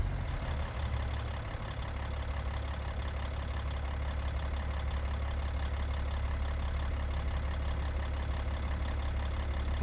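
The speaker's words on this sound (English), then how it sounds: "I forgot how good this little engine was," A Peterbilt 389 truck engine idles with a constant heavy, low diesel rumble, steady and close for the whole stretch with no talking.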